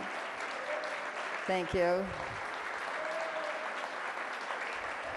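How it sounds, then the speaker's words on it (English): An audience at an evening reception for a women's legal caucus applauds the judges, steady clapping that fills the room while a voice briefly speaks over it. "would you stand up so we can also give you a round of applause"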